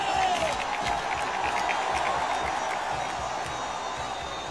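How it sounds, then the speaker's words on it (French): A French stage audience applauds an orchestra, a dense steady wash of clapping with scattered cheers that fills the room and fades slightly toward the end. "Vous pouvez les applaudir."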